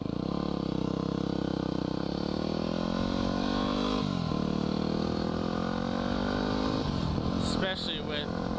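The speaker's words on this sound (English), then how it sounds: "Getting used to loving the dirt bike again." Dirt bike ridden on an evening ride, with a loud, steady engine drone that rises and falls with throttle changes, wind noise throughout and a rider's voice talking over it.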